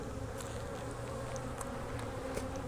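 Honey bees drone steadily around an open hive during a hive split, a dense continuous buzz with individual bees passing close now and then, no talk.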